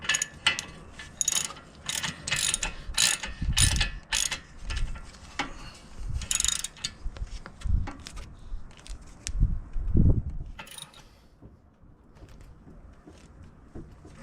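A socket ratchet clicks in repeated short bursts while tightening on a 2007 Toyota RAV4 3.5L V6 during outer tie rod replacement, with rapid close ratcheting strokes separated by brief pauses and some workshop handling noise, no talking.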